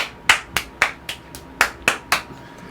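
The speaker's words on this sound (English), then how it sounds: "You're clapping" Sharp hand claps, about eight of them, landing at a steady pace with brief gaps between, close and fairly loud, with no voices over them.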